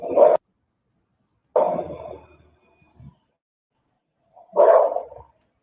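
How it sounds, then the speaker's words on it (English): A dog barks in three separate bursts spaced a few seconds apart, fairly loud and sharp against otherwise silent surroundings. "Dog still barking."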